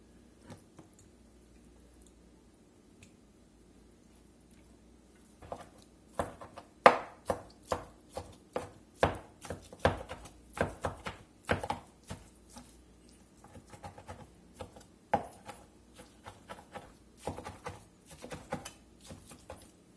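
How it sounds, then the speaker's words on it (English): Cooked beef for birria quesadillas is chopped with a knife on a board, starting with quiet handling and then settling into a steady run of sharp, close, repeated chops, with no voices. "Let's get this beef chopped up."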